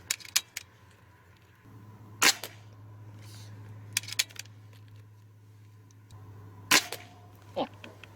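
A Stoeger XM1 S4 suppressed .22 PCP air rifle fires a few sharp, short cracks spaced seconds apart over a low steady hum, with faint clicks between shots.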